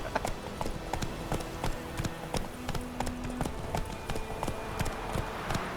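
Horse hooves clip-clop at a steady walking rhythm in a video game, close and fairly soft, with faint background sound.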